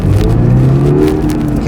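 A Toyota GR86 engine hums and revs steadily at close range from inside the car in traffic, a continuous low drone with talk over it.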